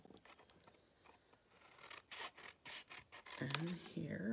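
Scissors snip through cardstock rectangles for a Stampin' Up! paper craft, a run of quick rhythmic cutting strokes growing louder and closer, with a voice briefly audible near the end.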